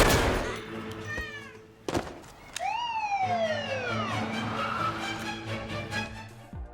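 A stray cat meows in a night street scene from the film American Psycho, several drawn-out, falling meows up close over a steady low hum and background sirens.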